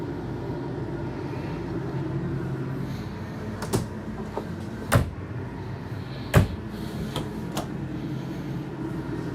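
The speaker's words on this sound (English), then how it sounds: "these do have the ball bearing soft close drawers" Ball-bearing soft-close drawers inside a 2024 Renegade Verona LE 40LRB RV close with a few soft thuds and light clicks over a low background hum, spaced a second or two apart.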